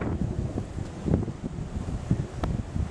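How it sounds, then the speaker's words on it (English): Gusty wind buffets the microphone in uneven low rumbles and puffs, rising and falling over a few seconds, with no one speaking. "It's still a little bit windy."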